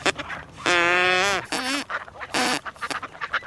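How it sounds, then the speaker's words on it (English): Ducks answer a blown straw whistle with several loud, nasal quacks and honking calls, some drawn out and others short, close by with brief gaps between them. "If you get it right, the ducks will quack back."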